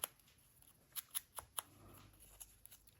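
Scissors trimming the edge of junk-journal paper cut from a cheap 6x6 pad make a few crisp, faint snips spaced irregularly over a few seconds, with quiet handling between cuts.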